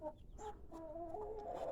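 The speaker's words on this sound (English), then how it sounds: "He's the new rooster" A rooster among farm birds gives a short run of soft, close clucks, a few quick throaty notes strung together with no talk.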